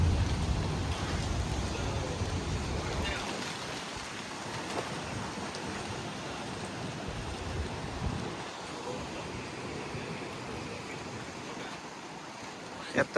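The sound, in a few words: heavy rain bands in a severe thunderstorm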